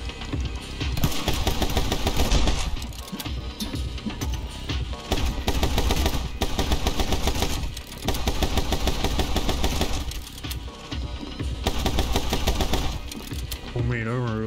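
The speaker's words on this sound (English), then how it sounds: "Shots." Video game gunfire in My Friend Pedro: dense, rapid bursts of shots layered over loud continuous game music and engine-like drone, the firing stuttering in and out for the whole stretch.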